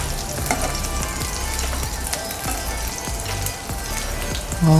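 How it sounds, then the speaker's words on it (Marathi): Chickpea tikkis sizzle and fry in a pan while being flipped with a spoon, a close continuous crackle broken by a few soft scraping taps, ending with a brief louder clatter. "अशा प्रकारे मी सगळे टिके पलटून झाले"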